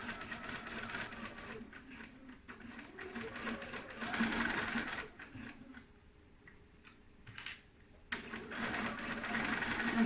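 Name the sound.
sewing machine stitching, backstitch at start of seam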